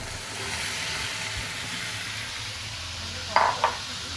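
Boiled kabuli chickpeas stirred in a frying pan, a continuous soft sizzle under low scraping, ending with two sharp clinks of a utensil against the pan.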